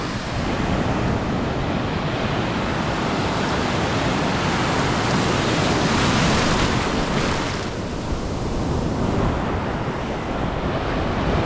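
Ocean surf at the San Pancho beach break in Mexico, a continuous loud wash of breaking waves arriving back to back, with steady wind rumble on the microphone and no talk.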